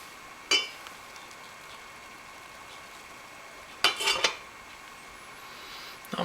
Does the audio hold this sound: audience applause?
no